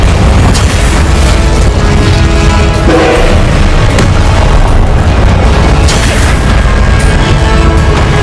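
The Confringo blasting spell goes off in Hogwarts Legacy as a dense run of very loud booms and crashing bursts. The blasts stay heavy and constant throughout.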